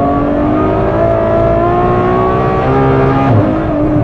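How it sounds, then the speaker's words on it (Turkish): A Ferrari F12 Berlinetta engine drones loud and close under load, with a sharp downshift blip near the end; no voices. "Vites düşüşleri de ya ben böyle bir vites atma görmedim."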